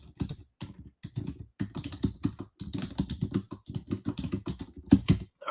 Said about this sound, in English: let me type in I'm typing constantly in our group